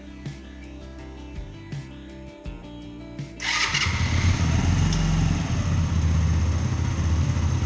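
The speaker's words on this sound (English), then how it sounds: "Let's try turning the bike on." A motorcycle that had trouble starting fires up on the first try after about three seconds of quiet clicks and handling, then settles into a loud, steady idle close by.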